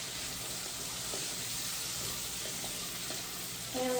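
Chopped whole onion sizzling in hot bacon fat after crispy bacon, a steady close hiss of frying with light stirring clinks near the end.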